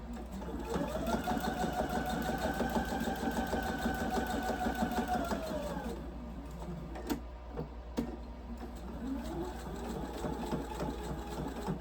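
Sewing machine running steadily for several seconds as it stitches fabric held under the presser foot, then pausing briefly before starting up again; a close, even mechanical hum with a rapid needle rhythm.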